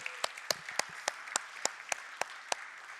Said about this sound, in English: applause for everyone that's here for the first time